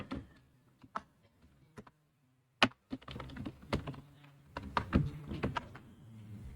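Typing code on a computer keyboard: irregular clicking keystrokes, sparse at first, then faster and denser, close and alone.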